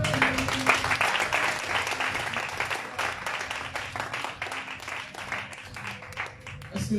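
A church congregation applauding during a French-language service, sustained dense clapping that runs for several seconds, loud and close, with voices mixed in beneath it.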